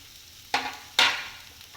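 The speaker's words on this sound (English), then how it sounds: "Now I am adding the coriander leaves" Coriander leaves dropped into a pan for oats idli, giving two short bursts of stirring and frying sizzle close by, each fading quickly, with no talking.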